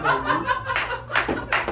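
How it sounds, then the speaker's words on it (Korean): A small group at a farmers' cooperative friends' meetup claps in short bursts mixed with laughter. The sound is close and lively, with a couple of quick rounds of hand claps under chuckling voices. "와 박수"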